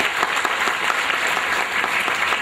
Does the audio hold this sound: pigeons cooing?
no